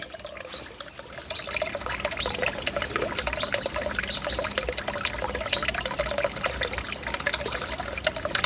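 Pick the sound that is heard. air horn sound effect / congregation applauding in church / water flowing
water flowing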